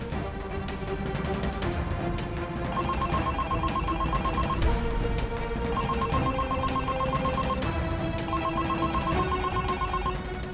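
Repeating electronic telephone ring plays in a steady, looping melodic pattern, loud and continuous throughout, with no talking over it.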